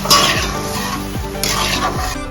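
Water saved from frying paneer is poured into a pan of paneer butter masala and stirred, giving a steady wet sizzle with a few spoon scrapes and light clinks.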